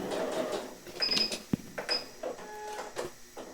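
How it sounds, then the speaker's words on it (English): A printer makes odd mechanical noises, with whirring, scraping and irregular clicks, one sharp knock and high squeaks, moderately loud and close with no talking. "Now my printer's just making weird noises"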